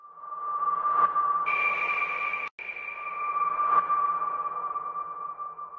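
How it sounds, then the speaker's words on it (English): Reversed lead synth from the Sega Dreamcast startup sound: a steady sustained tone swelling in from nothing, with a higher layer entering partway, a brief cut near the middle, then holding on alone with no talk. "This is the lead instrument reversed."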